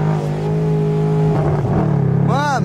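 A car engine revs loudly nearby as a sustained, throaty drone, then rises and falls in a quick rev near the end. A voice briefly speaks over it.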